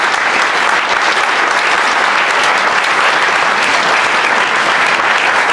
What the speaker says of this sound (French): je vous l'applaudis très très fort.